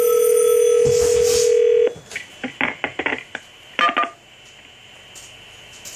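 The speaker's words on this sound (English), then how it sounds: "let's go ahead and dial 231" Touch-tone DTMF digits dialed on a 1A2 key telephone system follow a steady dial tone, with three short bursts of tone dialing before the line goes quiet. The tones are clear and close, with no talk over them.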